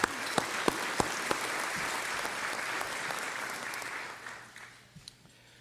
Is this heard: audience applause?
yes